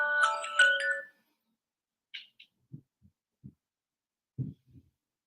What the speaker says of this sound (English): That was just my alarm going off.